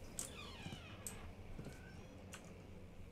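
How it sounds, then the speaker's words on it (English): A pet cat gives a few faint, thin meows at a distance, short rising-and-falling cries spaced across a quiet room with a soft background hiss. "I don't know if you can hear the meowing."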